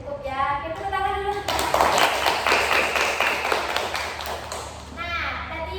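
Students in a group counseling class at school clap together, a burst of brisk, overlapping hand claps in the middle, with children's voices talking before and after.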